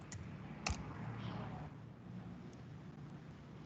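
Typing on a computer keyboard during an online Power BI session, producing a few sparse, sharp clicks at irregular intervals over a steady low background hum, with no talking.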